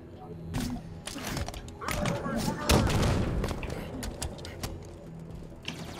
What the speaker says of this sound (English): These gun sounds are good.